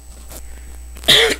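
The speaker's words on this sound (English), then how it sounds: "Excuse my cough there." A single loud, close cough bursts out near the end from someone commentating on wrestling, following a stretch of quiet room noise with faint breaths.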